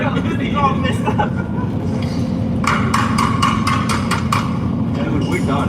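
Repeated metallic hammer impacts on a broken rear arm during a hasty race-car repair, a quick series of sharp clanks over steady engine-like background noise with voices nearby.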